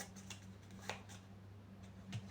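Tarot cards shuffle in quick, soft riffling bursts close by, a few light papery flicks spread over a couple of seconds against a faint steady hum.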